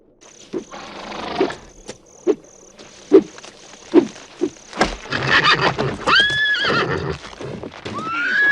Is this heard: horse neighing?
yes